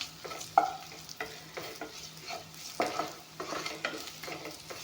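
Spices sizzle quietly in a frying pan as they are stirred, with a soft hiss underneath and repeated scraping and clinking strokes of a spoon against the pan, close and at an even pace, with no talk.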